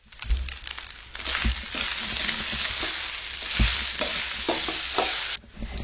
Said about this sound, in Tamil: இப்ப நம்ம சாதத்தை போட்டு கிளறி விட்டுக்கலாம்